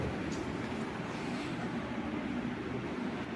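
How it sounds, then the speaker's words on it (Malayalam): Low, steady rumble of a train arriving at platform one of an old railway station, rolling nearby, continuous and fairly quiet, with no voices over it. "അടുത്ത ട്രെയിൻ ഇതേ പ്ലാറ്റ്ഫോം നമ്പർ വണ്ണിൽ വന്നുകൊണ്ടിരിക്കുകയാണ്"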